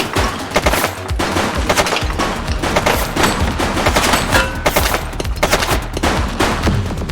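Sustained gunfire from a suspect during a shootout in the police game The Precinct, rapid overlapping shots in dense bursts, loud and close for the whole stretch with no talk.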